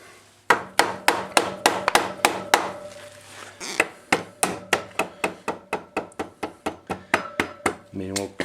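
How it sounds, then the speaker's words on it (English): Rubber mallet tapping the front axle of a 2015 BMW F800GS motorcycle back into the wheel hub, a long run of sharp, evenly spaced knocks, loud and close, with a brief pause partway through. "with the help of our trusted rubber mallet"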